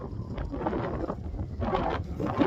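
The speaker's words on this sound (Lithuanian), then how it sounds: "Baisus vėjas." Strong, gusty wind buffets the microphone in a continuous roaring rumble outdoors on an evening ride, with surges and dips in loudness and no voices.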